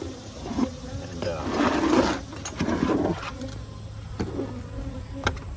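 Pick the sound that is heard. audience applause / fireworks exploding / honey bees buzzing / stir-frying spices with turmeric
honey bees buzzing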